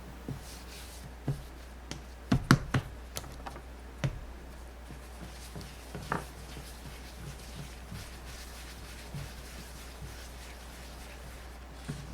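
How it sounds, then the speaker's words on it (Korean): Portioned bread dough for sausage bread being rounded by hand on a work surface: soft, scattered taps and light patting, clustered in a short burst and then sparser, faint over a steady low background hum. "소분이 끝난 반죽을 동글리게 합니다."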